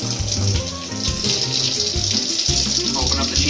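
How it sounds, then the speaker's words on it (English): Warm water running from a kitchen tap while chinchulines are rinsed, a close, steady splashing stream with uneven gurgling shifts as it hits the sink. "we're gonna go ahead and open up some warm water."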